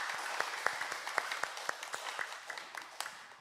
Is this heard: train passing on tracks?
no